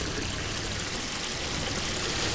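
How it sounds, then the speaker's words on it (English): Water flowing steadily in Minecraft, a continuous broadband rush like a stream or pour, fairly loud and uninterrupted with no talking. "You can hear the sounds. Yeah, the water."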